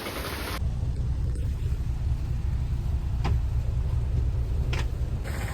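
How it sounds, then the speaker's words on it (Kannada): Dense, steady roar of heavy rain near Dharmasthala, loud and continuous, with a low rumble beneath and a couple of brief sharp noises. "ಎಂತ ಮಳೆ ಬರ್ತಿದೆ ಗುರು"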